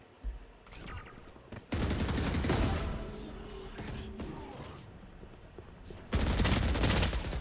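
Bursts of rapid gunfire in a first-person shooter game come in dense sustained volleys, loud and close, separated by quieter stretches with a voice faintly underneath.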